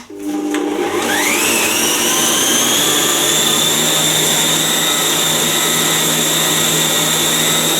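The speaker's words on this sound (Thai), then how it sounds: "ตีให้เนยเนี่ยเขาอ่อนตัวลงก่อนนะคะ ด้วยความเร็วปานกลางนะคะ" A stand mixer fitted with a paddle beats softened butter for buttercream icing at medium speed, a loud steady motor whir with rising tonal whine as it spins up, running continuously and close by.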